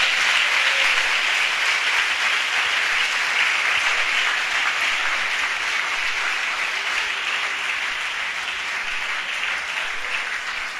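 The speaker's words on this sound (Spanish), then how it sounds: "¿Por qué no da un aplauso al Señor?" Sustained, loud applause from a church congregation during a sermon by Pastor Vicente Arango, a steady dense wash of many hands clapping that holds evenly throughout with no voices standing out.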